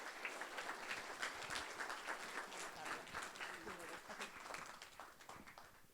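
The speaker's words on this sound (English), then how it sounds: "please give a round of applause and a great thanks to Assemblywoman Kate Sanchez" A crowd at a senior scam symposium gives a round of applause for Assemblywoman Kate Sanchez, sustained clapping of moderate loudness with some voices mixed in, tapering slightly toward the end.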